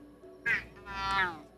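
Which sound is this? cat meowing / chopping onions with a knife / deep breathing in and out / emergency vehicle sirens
cat meowing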